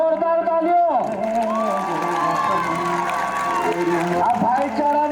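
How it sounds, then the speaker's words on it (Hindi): A large crowd at an Independence Day celebration claps and cheers continuously, with shouting children and whoops swelling over amplified music and a voice at the start. "मारो जोरदार तालियों।"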